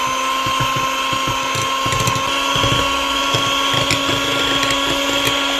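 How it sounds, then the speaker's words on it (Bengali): An electric hand blender whips cream for a birthday cake, a loud, steady whirring motor whine with faint rattling as the beaters work the bowl, with no voices. "হ্যান্ড ব্লেন্ডার দিয়ে ক্রিমটা বানিয়ে নিব।"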